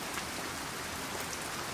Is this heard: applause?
no